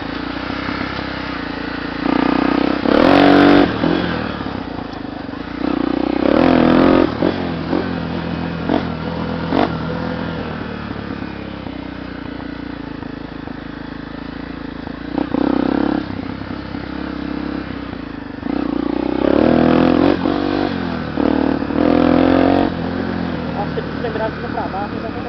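A Honda Tornado 300cc motorcycle fitted with a Maxon turbo exhaust tip revs in repeated loud bursts between steady idling, with people talking over it throughout.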